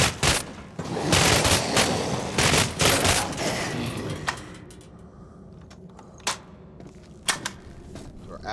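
Rapid bursts of gunfire from the player's gun in the video game Cryostasis, a dense volley of close, loud shots for about four seconds, then scattered single sharp reports with quieter gaps.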